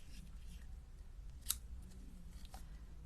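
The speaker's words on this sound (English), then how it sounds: "Keep your ribbon scissors for ribbon." Ribbon scissors snip through ribbon in a quick, crisp cut, with a fainter second snip shortly after over a low steady background hum.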